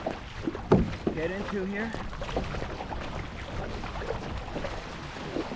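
Kayak paddle strokes slosh through water at a moderate, close distance, with splashes and drips and some wind noise, while a person talks over them.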